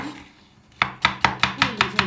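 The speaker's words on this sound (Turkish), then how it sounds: "Üstünden tekrar bıçakla iyice inceltiyorum" A knife finely chops walnut çiğ köfte mixture on a board, a quiet start followed by six evenly spaced, crisp thuds in a steady rhythm, close up.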